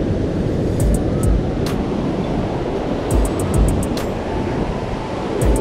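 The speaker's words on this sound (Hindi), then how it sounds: "पानी की आवाज बहुत ज्यादा है" Water rushes at the Ramnagar barrage, a broad continuous roar mixed with wind buffeting a microphone on a motorcycle ride, with a few sharp clicks.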